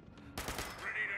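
Rapid bursts from a 10mm submachine gun in Fallout 76 crackle through a dense, sustained rattle of closely spaced shots, fairly loud and near, with a tonal whine rising in the latter half.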